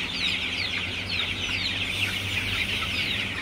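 A crowded flock of Sonali super hybrid chickens, about six weeks old, clucks steadily in a hot poultry shed, a dense continuous chatter of overlapping calls close by.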